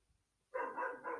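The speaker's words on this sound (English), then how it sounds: "Sorry about that dog barking." A dog barks indoors in a home, a few loud close yelping barks in quick succession after a moment of quiet, with no talk over them.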